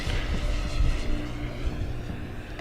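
Electric RC Flightline 1600mm Corsair warbird on a 6S 6000mAh lipo, flying at wide-open throttle; a steady, loud propeller drone and buzz that holds for about three seconds with slight surges as it passes.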